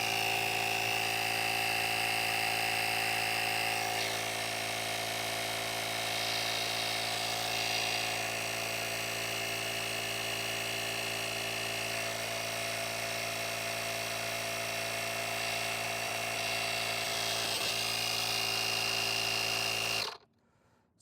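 A portable jump starter's built-in air compressor runs loud and steady for about twenty seconds while inflating a tire to 30 psi, then cuts off abruptly near the end.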